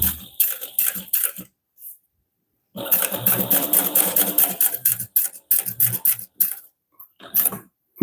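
An 1181N walking-foot sewing machine stitching: rapid mechanical chattering in several bursts of one to three seconds, separated by brief pauses, loud and close with no talk over it.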